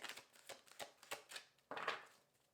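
Tarot cards are shuffled by hand in a quiet room: a run of crisp, rapid riffling bursts about every quarter second, then one longer, louder ruffle near the end, close and soft, with no talking.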